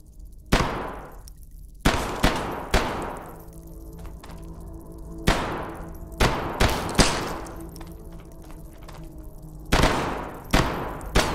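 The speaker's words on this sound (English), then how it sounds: "let's pull out the assault rifle for this" Assault rifle fire in the video game Hidden Deep: sharp, loud single shots and short bursts ringing out in irregular clusters, each followed by a brief echoing decay, with no talk.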